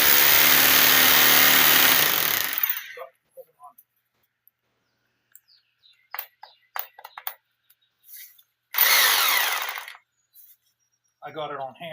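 A Bosch Extreme SDS plus hammer drill bores into concrete during garage door prep. A loud grinding burst of about two seconds, then quiet clicks and handling, then a second shorter burst.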